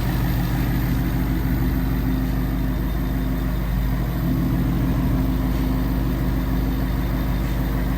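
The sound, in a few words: Ford Mustang GT Coyote 5.0L V8 engine idling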